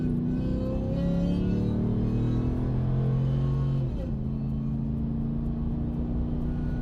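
Ram 1500 pickup fitted with an Evil Energy cold air intake, engine roaring loudly under acceleration with a rising tone, then settling into a steady, heavy drone.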